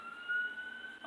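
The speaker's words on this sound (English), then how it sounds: "I don't know if you guys can hear those sirens," An emergency siren sounding outdoors, heard faintly and at a distance as a thin, steady wailing tone over a quiet background, with no voices.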